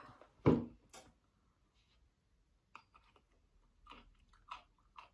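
A close, loud crunching bite, followed by quieter intermittent chewing crunches of a crisp zesty garlic snack.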